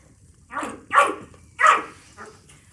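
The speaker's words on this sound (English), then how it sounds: "it's super fun when your conditioner makes goofy noises" Conditioner squeezed from a bottle gives off a few goofy, squelchy sputters, three or four short bursts at close range with no talking.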